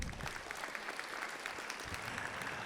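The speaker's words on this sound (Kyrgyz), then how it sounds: "Жакшы, Нурбекке кол чабуулар." Concert crowd at a Kyrgyz stand-up show in a tech park hall applauding a comedian, a continuous, fairly distant wash of clapping at a steady level, with no talk over it.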